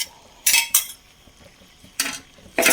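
A spoon scrapes and clatters against a metal pot while stirring aviyal with added coconut, in a few short bursts separated by quiet pauses.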